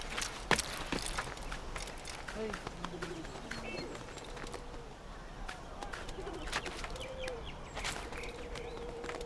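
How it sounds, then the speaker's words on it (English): Faint bird chirps and calls from the outdoor ambience of the Assassin's Creed video game, scattered through the clip and partly masked by clicks and other game noise. "You can hear the birds chirping out there."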